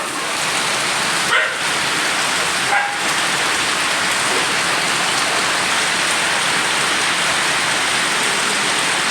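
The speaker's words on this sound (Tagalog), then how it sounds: "Lakas ng ulan." Heavy rain pours down steadily in a dense, even hiss, with a couple of brief louder bumps early on and no voices.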